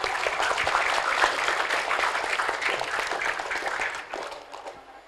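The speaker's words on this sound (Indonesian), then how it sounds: "Tepuk tangan buat Ananda." Students and families at a Quran recitation exam and graduation ceremony at an Islamic elementary school give a dense, steady round of applause that carries on for about four seconds, then thins and fades out.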